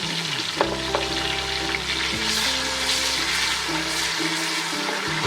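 Ginger, coriander, green chilies and tomatoes fry in a pan for Savour Foods-style pulao kabab, giving a steady loud sizzle with a low electrical hum underneath and a few light clinks of the utensils.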